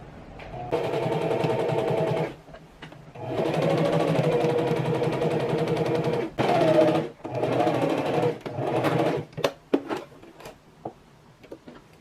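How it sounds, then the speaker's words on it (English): A sewing machine stitches along the edge of a mini dress with a ruffle skirt, running in several steady close bursts separated by short pauses, ending in a few brief stops and starts. "I am just going to stitch right along the edge here using my 1/2 inch seam allowance"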